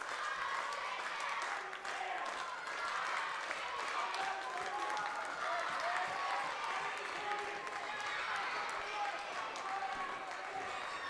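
Wrestling crowd at an ISPW indoor show cheering and clapping for Sean Donovan, a steady dense roar with scattered shouts and claps running throughout, fairly loud and continuous with commentators talking over it.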